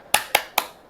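A group in a teacher-training classroom at Universitas Muhammadiyah Malang claps a rhythmic spirit clap: three sharp, loud claps struck together in an even, quick beat, each fading fast, with no talk.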